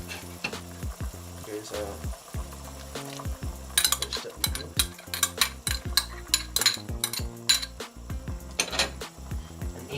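Broccoli and mixed vegetables stir-frying in a hot pan for an Asian oxtail stew, a close, lively sizzle broken by repeated utensil scrapes and clanks as the food is tossed, with a brief spoken phrase near the start.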